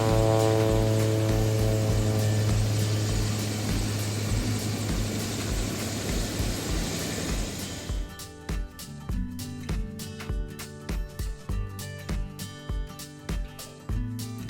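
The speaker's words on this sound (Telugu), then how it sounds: "మౌంట్ కుక్ ఎయిర్పోర్ట్లో రద్దీ మామూలుగా ఉండలేదండి చూస్తున్నారు కదా take off landing take off landing" Small propeller planes at Mount Cook Airport, New Zealand, on a busy day of takeoffs and landings: a loud, steady engine drone with harmonic hum for about eight seconds, then fading to intermittent rhythmic clicks and knocks nearby.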